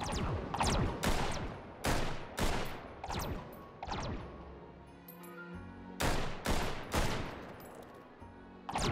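Sniper fire in the VR shooter Hot Dogs, Horseshoes & Hand Grenades rings out as a rapid string of loud, sharp gunshots in bursts, with a brief lull midway before the volley resumes, with no talking.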